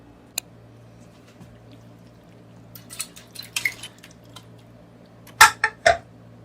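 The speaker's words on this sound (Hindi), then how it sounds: "तो चलें इसको डालते हैं कुकर के अंदर।" Wet, squishy plops and light metallic clinks as soft pieces of mutton liver are dropped into a metal pressure cooker, a few scattered sounds then a louder cluster near the end.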